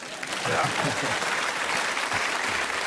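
Audience applause at a Czech stage show, a dense, even clapping from a crowd sustained for a few seconds, close and loud.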